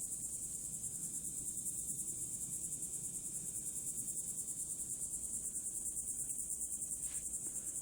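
Steady, shrill cicada drone filling Florida woods on the Space Coast, loud and unbroken from start to end, with faint rustling underneath and no voices.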